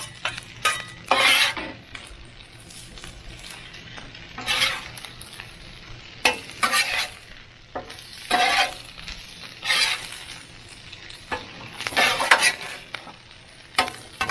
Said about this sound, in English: so the egg can really cook. And we want to fry the rice.